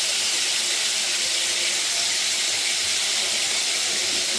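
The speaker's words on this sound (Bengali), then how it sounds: "মশলাটা একটু কষাই নেই" Coriander and cumin powder fry in a hot pan for a beef liver bhuna, giving a loud, steady, unbroken hiss close by with no talking over it.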